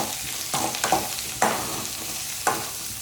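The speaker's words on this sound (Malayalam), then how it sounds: "ഇനി ഇതിലേക്ക് അരിഞ്ഞ് ഉള്ളി ചേർക്കാം നന്നായിട്ട് ഇളക്കി കൊടുക്കാം" Chopped onion goes into a hot frying pan with curry leaves and gets stirred, giving a steady sizzle broken by four or five scraping spatula strokes close by, with no voices.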